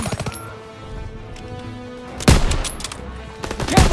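Call of Duty WWII battle gunfire: sharp close rifle and machine-gun shots crack out at the start, then louder bursts after a brief lull, with shell-casing clinks ringing amid the combat.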